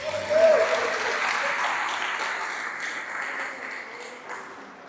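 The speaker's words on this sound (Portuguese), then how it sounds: "Dê um aplauso a Jesus" A church congregation applauds in a steady, diffuse wash of clapping that swells briefly near the start and then fades gradually, heard from within a large room.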